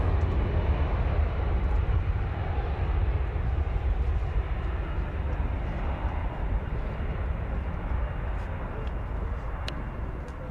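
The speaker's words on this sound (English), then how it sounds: "Jumbo is taxiing out now, Stuart." Jumbo jet taxiing at an airfield, a loud, steady low rumble and broad engine roar holding constant throughout without any voices.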